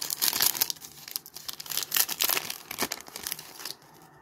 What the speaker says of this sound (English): Let's rip this first pack here.